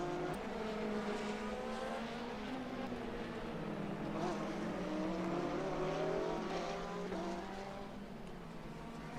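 Race cars in a sports car racing game, a BMW and a Porsche GT braking into a turn at Mid-Ohio, whine steadily with rising and falling engine pitch throughout, under continuous commentary.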